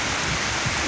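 Heavy rain pours down in a brief, dense, steady wash of close hiss, with gusting wind before a tornado.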